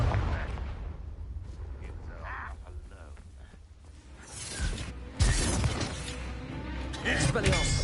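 A fire-blast spell explodes in a video game, a sharp crashing burst near the middle that follows softer mechanical clatter, with speech-like sounds around it.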